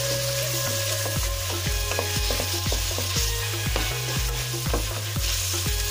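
Steady sizzling of boiled chicken frying in a pan for pancit bihon, with a rhythmic scraping and stirring knocking through it, and nobody speaking.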